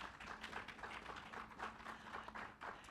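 An audience at a Brazilian poetry event gives a round of applause in honor of the poet Raul de Leoni, with moderate, fairly even clapping from a small crowd.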